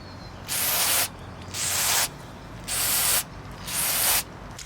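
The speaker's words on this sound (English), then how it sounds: "They have a different cleaning can to clean these, to clean the wire connectors." A can of cleaner sprays onto a car's MAF sensor in four loud, close bursts of hissing mist, each about half a second to a second long with short pauses between.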